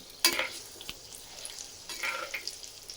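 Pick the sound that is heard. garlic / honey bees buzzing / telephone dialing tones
garlic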